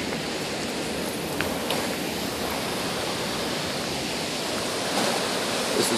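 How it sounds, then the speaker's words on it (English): Steady, rushing roar of Minnehaha Falls, broadband and constant throughout, with no voices. "That's the Minnehaha Falls."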